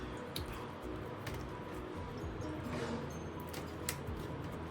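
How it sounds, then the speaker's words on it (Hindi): Fruits being rinsed under water while prepared to decorate a soup offering for Chhath Puja; steady wet trickling and dripping with soft squishing handling sounds, close and continuous, with no talking. "सारे फ्रूट्स को जो कि सूप में सजाने के लिए यूज़ होगा उसको धो धो के रख रही हूँ।"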